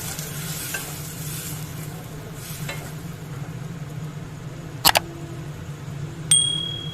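Ginger-garlic spice paste with a little water stirred in a pan for ghugni, a soft steady sizzle and scraping under faint background hum, broken by a couple of sharp knocks near the end and a brief metallic ring.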